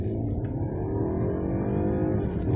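A 2021 BMW 520i Sport accelerating hard in manual mode, its engine note rising steadily as it upshifts, heard from inside the cabin as a continuous low drone with no talking.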